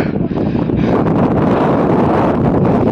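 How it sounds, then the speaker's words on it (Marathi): Strong wind roars without a break against the microphone on a mountain fort in the Sahyadri hills, buffeting loud and close with no voices. "वारं तर इतका जोराचा सुटलाय ना"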